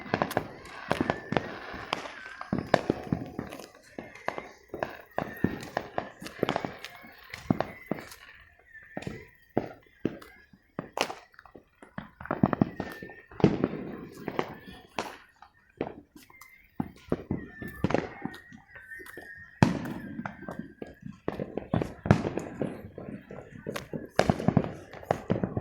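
Fourth of July fireworks explode in a scattered neighbourhood display, with many sharp cracks and pops at irregular intervals, some close and loud and others more distant.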